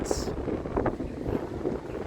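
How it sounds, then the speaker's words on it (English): Outdoor wind buffets the microphone in uneven low gusts and rumbles, with faint muffled voices beneath. "it's too windy to do a live"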